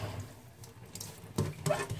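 Water from soaking wool is dumped out into a sink, giving a short splash and pour that swells near the end of the moment, close by and with no talk.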